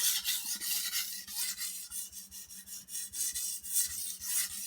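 A knife edge drawn heel to tip across a sharpening stone under firm pressure, giving a steady train of soft rasping strokes, close and moderately quiet, with no voices.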